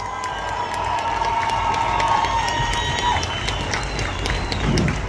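A large crowd at a pro-Palestinian protest in London applauds and cheers, a dense, loud wash of clapping and shouts that swells steadily, with a faint whistle-like tone and voices mixed in.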